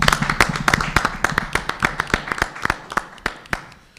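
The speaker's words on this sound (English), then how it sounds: "Let's give him a round of applause." A round of applause from a small group, with distinct individual claps ringing out close by at an uneven pace, steady and moderately loud throughout.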